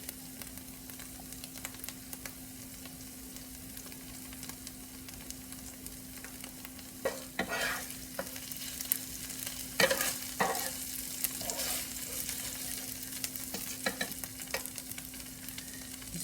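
A quesadilla filled with sharp cheddar and barbecue chicken fries in butter until the tortilla crisps, giving a faint, steady sizzle under a low hum. Louder scrapes and pan knocks come in the second half, and no one talks.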